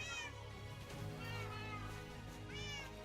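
Cats meow in the video game Minecraft, with three short, rising-and-falling meows spread across a quiet background hum.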